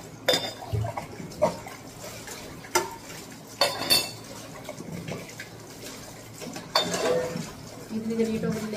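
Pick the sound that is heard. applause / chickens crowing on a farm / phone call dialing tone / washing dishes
washing dishes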